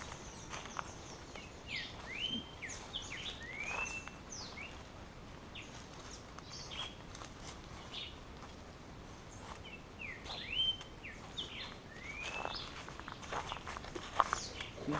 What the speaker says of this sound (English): You can hear all the birds calling.